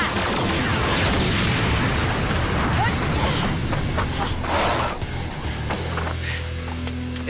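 Power Rangers RPM energy blast effect: a dense, loud burst of crackling, booming energy sustained for several seconds, with mechanical clatter layered in, easing to a lower hum near the end.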